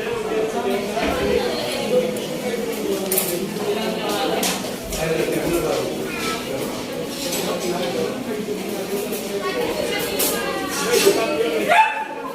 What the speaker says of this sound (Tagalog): Ayan po yung aso.